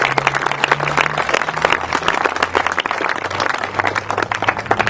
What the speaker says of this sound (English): I'd like to give the town of Lennox Highway Department a round of applause for that, please